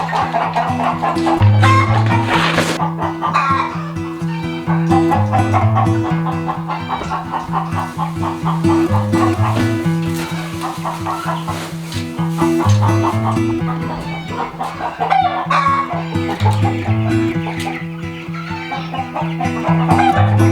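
Chickens clucking and murmuring continuously in an outdoor chicken tractor, steady and fairly close, with occasional louder calls rising over the flock.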